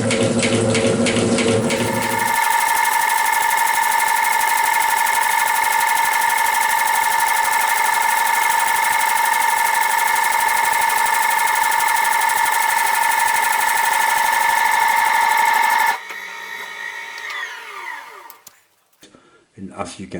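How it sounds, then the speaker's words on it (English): A metal shaping machine cutting at 160 strokes per minute, a loud steady mechanical whine with a constant tone, running alone before stopping abruptly, followed by quieter workshop sounds. "Machine is running at 160 strokes a minute."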